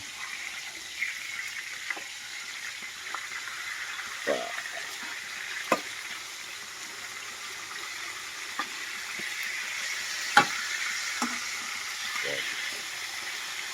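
A pork chop steak frying in a pan gives a steady low sizzle throughout, with a few brief clatters and faint voices now and then.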